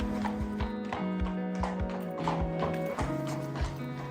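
A horse walks at a horse therapy program in Oregon, its hooves clip-clopping in a steady, evenly spaced rhythm close by over continuous background music.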